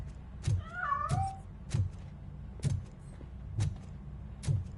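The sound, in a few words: cat meowing in video game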